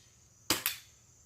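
A BB gun fires at a piece of wood, giving a single sharp crack closely followed by a second snap of impact, both brief and fairly close against a quiet background.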